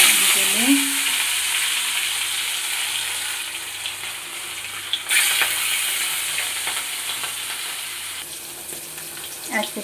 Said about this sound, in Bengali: নুন হলুদ দেওয়া হয়ে গেছে, এরপর মাছটাকে ভাজতে হবে।